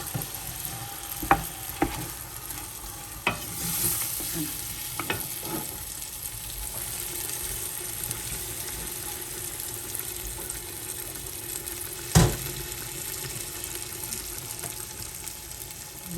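Meat and spices stirred in a pot for Moroccan couscous, a steady low frying sizzle with scattered scraping clicks of the spoon and one sharper knock near the end.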